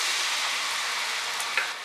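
Vegetables fry on a high flame with a paste of Ching's Secret veg manchurian masala for veg manchurian, giving a steady, loud, even sizzle throughout, with a small clink near the end and no voices.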